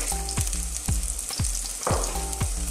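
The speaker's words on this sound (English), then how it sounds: "saute the garlic" Garlic sautéing in oil in a pan for Filipino menudo, a loud steady sizzle with a low electrical hum and regular scraping strokes about every half second, no speech.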